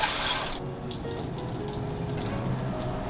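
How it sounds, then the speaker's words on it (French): Tap water runs into a sink while rice is washed, a close, steady hiss and splash that shifts slightly as the grains are stirred. "Il faut nettoyer le riz."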